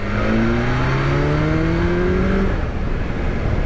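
A BMW S1000XR motorcycle engine revs loud and close while downshifting, its pitch climbing steadily for a couple of seconds before settling into a steady drone.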